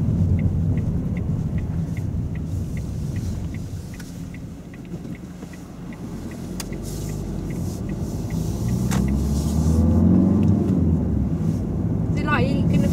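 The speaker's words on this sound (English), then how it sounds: "as we drive along, we'll see if we can turn left" Car driving along a road during a driving lesson, with a steady low engine and road rumble, some wind noise and faint regular ticking like an indicator, continuing for the whole stretch while the driver talks.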